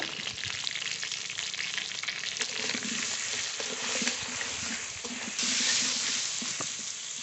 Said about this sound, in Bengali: ভালো করে আলু ভেজে নেব আলু খুব ভালো করে ভেজে নিয়েছি